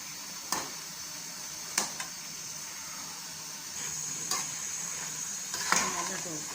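A spoon stirs paithay ka halwa, a sweet ash gourd pudding, in a pan, giving a few sharp scrapes and knocks spaced through a soft, steady sizzle.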